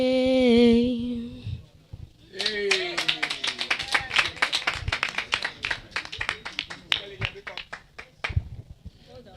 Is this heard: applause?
yes